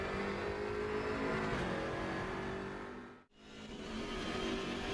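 A loud, continuous BMW M6 GT3 race car engine drone at high revs in the RaceRoom sim game, briefly dipping to near silence in the middle before resuming.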